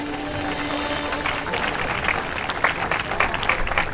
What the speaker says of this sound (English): One big applause for the gold medal winner.